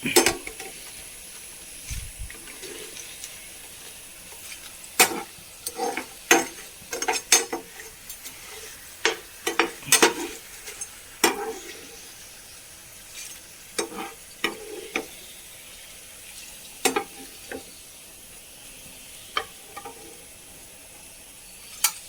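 Fried elephant yam chips are scooped from hot oil with a metal ladle, producing soft sizzling beneath irregular clacks and scrapes against the pan, spread across the whole stretch.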